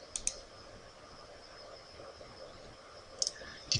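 A computer mouse gives a few sharp clicks, a pair near the start and another pair near the end, against a quiet room hum.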